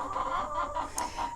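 Chickens cluck close by in a repeated, rhythmic series of short throaty calls, moderately loud, with no talk over them.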